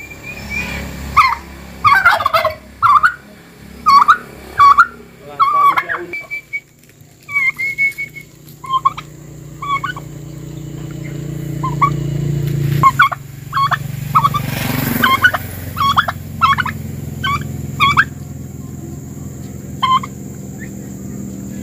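A turkey gobbles repeatedly in loud, rattling bursts, close by, with brief pauses between calls and some background noise.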